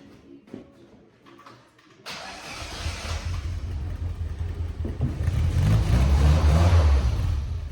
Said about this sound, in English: Let's start it up and drown out the music.